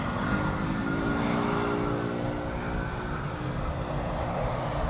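An Air China Cargo Boeing 747 freighter bound for Shanghai gives a steady, moderately distant engine roar with droning tones, with no other sound over it.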